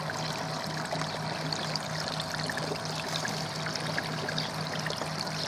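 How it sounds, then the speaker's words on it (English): Water trickles and pours continuously through the plant filter chamber of a koi pond, a soft, close, steady splashing stream with no voices over it. "Water goes down through this chamber and up through one the same"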